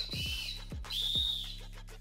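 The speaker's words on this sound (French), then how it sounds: "Et aussi un sifflet. C'est un sifflet d'arbitre de foot," A football referee's whistle, carried in an urban emergency evacuation bag, gives three sharp, loud shrill blasts, the last held longest, with no talking.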